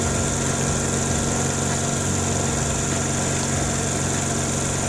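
A BLDC electric motor runs on a laboratory test bench for electrical machine practice, producing a loud, steady whirring hum with buzzing vibration that holds constant throughout, with no speech.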